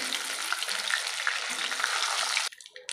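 Hilsa fish fries in hot oil with a steady, dense crackling sizzle that cuts off abruptly near the end, leaving faint clinks.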